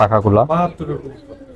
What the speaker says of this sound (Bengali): অনেক সুন্দর একটা বাঘা কবুতর দেখেন